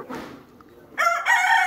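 Desi chickens and a rooster in a poultry shed, with soft clucking at first, then a short loud crow from a nearby bird rising sharply near the end.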